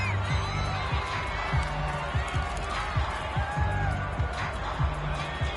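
Stadium crowd noise in an American football video game, a steady broad roar with scattered cheers, carrying on continuously under game sounds while a commentator talks.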